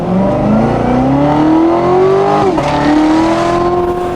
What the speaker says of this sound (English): You get a lot more like sucking noise because it's better on the intake for sure.